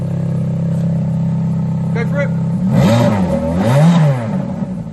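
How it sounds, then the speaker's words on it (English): A Ferrari F430 with modified exhaust valves idles low, then revs hard twice from the rear, each blip rising and falling sharply, with a brief spoken remark just before. "Okay, so you heard the exhaust valves open and close."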